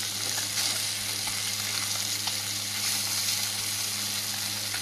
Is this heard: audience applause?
no